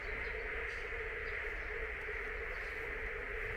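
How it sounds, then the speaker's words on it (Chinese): Frogs croak in a dense, steady chorus from undeveloped wasteland after heavy rain, a constant distant drone with faint chirps over it and no talk. "可能是这里边的青蛙叫的啊。"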